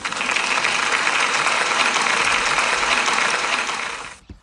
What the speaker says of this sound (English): can we give Phoebe D, a big round of applause, please